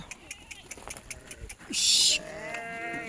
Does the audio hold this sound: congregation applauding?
no